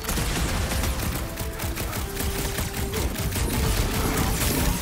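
Rapid bursts of gunfire and explosions from the Guardians of the Galaxy video game crackle densely and loudly throughout, a sustained barrage with no pauses.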